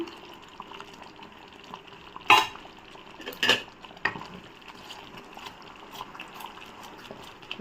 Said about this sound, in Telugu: బాగా తిప్పుతూనే ఉండాలి.